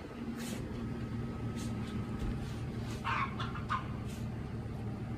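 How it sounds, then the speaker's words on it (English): Scattered hen clucks over a steady low hum of background noise, a few short bursts near the end, moderately distant. "Chickens are not too happy"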